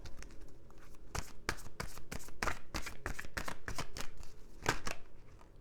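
Tarot cards being shuffled for a reading make a close, rhythmic run of crisp flicks and slaps, repeating steadily at an even pace with no talk over them.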